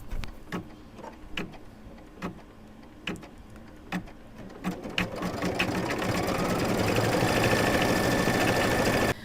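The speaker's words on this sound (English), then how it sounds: "it's going to begin stitching around him" An embroidery sewing machine starts with a few separate thuds of the needle, then settles into fast, continuous mechanical stitching that grows steadily louder and denser, close up and with no talking.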